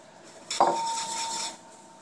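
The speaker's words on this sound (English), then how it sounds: "we have a little bit of penne pasta that we're going to put in there. We can go ahead and add that in." Penne pasta tipped into a cooking pan and stirred, giving a brief clatter of dry pasta and metal utensil against the pan, a sharp hit followed by about a second of steady scraping and rattling, close and fairly quiet with no talk.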